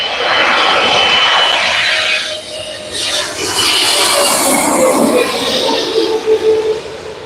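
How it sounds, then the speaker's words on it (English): An EVA Air Boeing 777-300ER arriving at LAX from Taipei roars loudly and steadily overhead, a broad jet rumble that swells and then eases slightly as the plane passes, with no talking. "Eva Air Flight 16 coming in from Taipei on the 777-300ER"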